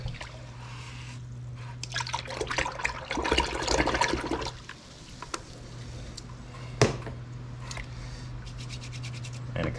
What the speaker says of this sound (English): so I'll just wash the brush in water.